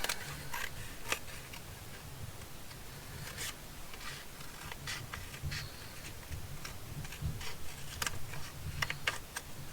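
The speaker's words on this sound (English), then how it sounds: "So then I'll just cut the edging." Paper edging for a dyed-paper journal is cut with scissors, producing a series of close, crisp snips at irregular intervals over a quiet background hiss.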